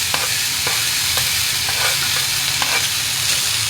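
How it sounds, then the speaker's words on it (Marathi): Chopped cowpea leaf greens stir-fry in an iron pan with garlic and chili, giving a steady close sizzle with light scraping stir strokes throughout. "आता आपण ही भाजी परत ती चिरलेली भाजी त्या लोखंडीकडे परतून घेणार आहे"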